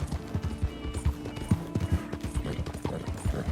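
Horse hooves clip-clopping in Red Dead Redemption 2, a steady rhythmic series of hoof thuds at moderate loudness, as if the horse is walking or trotting, with no talk over it.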